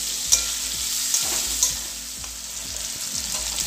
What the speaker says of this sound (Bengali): ভালো করে আলুর সাথে নেড়ে চেড়ে ভেজে নেব।